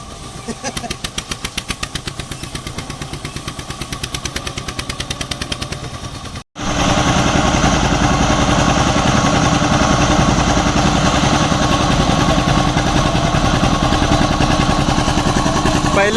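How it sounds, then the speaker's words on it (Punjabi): Two tractors rev their engines hard in a wet maize field, one a 2007 model and one a 1971 model. A loud, rapid chugging holds for about six seconds, cuts out briefly, then returns as an even denser, continuous roar. "ਕਰ ਲਿਆ ਰੇਸ਼ਾਂ ਦੋਵੇਂ ਟਰੈਕਟਰਾਂ ਦੀਆਂ"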